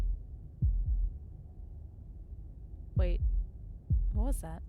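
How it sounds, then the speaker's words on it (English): Heartbeat sound effect from the video game Slay the Princess: two low, thudding double beats near the start, with a steady low hum beneath, followed by spoken voices. "That was the sound of a heartbeat"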